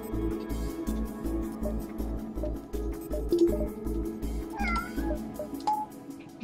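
Household cat meowing several times near a livestream setup, the drawn-out calls rising over a steady low background hum.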